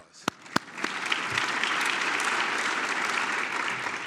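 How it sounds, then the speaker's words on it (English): Audience applause at the 2021 Space Symposium opening ceremony, opening with two sharp close claps before swelling into broad sustained clapping from a large crowd. "Give yourself a round of applause."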